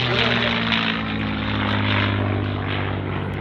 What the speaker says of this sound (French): Le son rugissant du Rolls-Royce Merlin